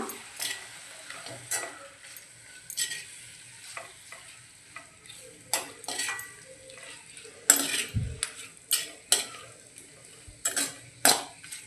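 Malvani masala being sautéed in a pan for cashew chicken: a steady sizzle under repeated scraping and clinking of a spoon against the pan, in irregular bursts with no one talking.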